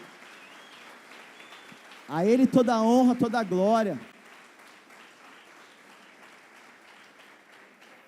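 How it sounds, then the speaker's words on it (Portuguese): Church congregation applause, a continuous wash of clapping that runs throughout, partly under a loud voice speaking over it in the middle stretch before the clapping carries on alone. "Dá um aplauso para Ele."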